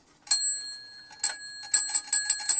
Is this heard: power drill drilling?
no